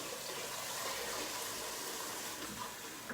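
Water gushes steadily into a pot to soak off sticky, candy-like cooked goat milk caramel residue, a close continuous pour with no talking.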